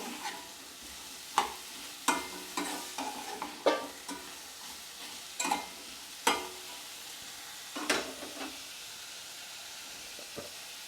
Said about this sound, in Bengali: এটা ভালোভাবে আমি মশলার সঙ্গে লাউটা মিক্স করে নেব।